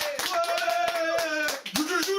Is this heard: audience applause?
yes